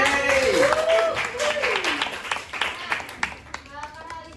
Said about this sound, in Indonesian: Boleh tepuk tangan dulu untuk Alicia.